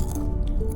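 Close crunching and chewing of an oil-free papadum cooked without frying oil, a brief run of crisp, wet bites right at the mouth with no talking.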